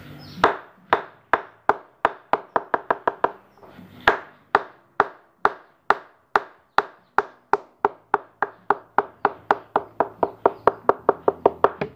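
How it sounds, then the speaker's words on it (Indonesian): Rapid series of sharp wooden knocks as a sugar palm flower stalk is beaten to loosen it for sap tapping, coming in quick bursts with brief pauses between runs. "jadi kita harus longgarkan dulu dengan cara pemukulan dan juga pengayunan seperti ini"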